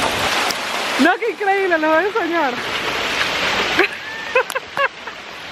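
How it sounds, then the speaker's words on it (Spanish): Hail falls steadily on a street in the Netherlands, a dense continuous patter heard beneath someone speaking excitedly in Spanish. "granizo, ¿ok?"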